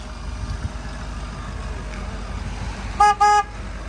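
A Ford 6.7 Powerstroke truck's backup beeper gives two short, bright electronic beeps near the end, heard over a low, steady engine idle.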